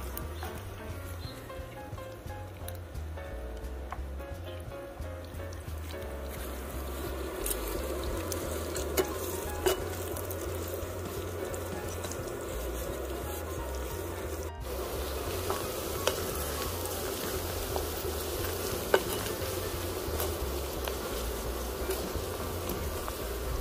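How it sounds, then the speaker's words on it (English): Garlic and onion sauté in a pan with a steady soft sizzle, accompanied by occasional scraping and stirring sounds from a utensil and no speech. "Continue mixing until the garlic and the onion turns into"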